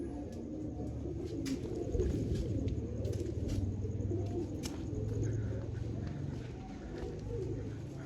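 Pigeons coo in a steady low murmur from a flock gathered on the ground near their perches after a feed of maize, with occasional faint bird calls and light background noise.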